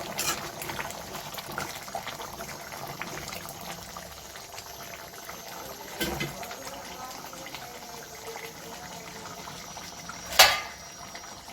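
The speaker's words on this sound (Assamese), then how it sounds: "দেউতাই ক'লে বইল হৈ গৈছে।" Mutton curry with garam masala bubbles steadily in a pot on a gas stove, a soft continuous simmering with a sharp metallic clink near the end.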